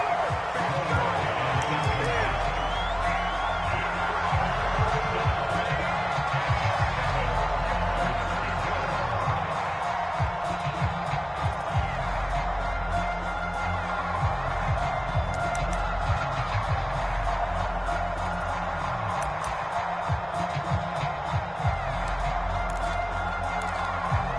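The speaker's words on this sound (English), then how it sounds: "The crowd getting into it as we come up on a big 3rd down." Stadium crowd in the Madden 22 American football video game keeps up a steady roar and cheer building toward a third down, a dense wash of noise under continuous commentary.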